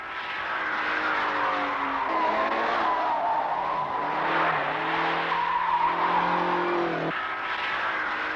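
Cars push tires to their limits on the Michelin test track near Clermont-Ferrand, a continuous loud engine roar with long squealing tire skids rising and falling in pitch, close and unbroken, with no voices.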